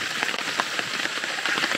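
Rain falls steadily on a surface at a creek campsite, a close, dense patter of drops with no voices over it.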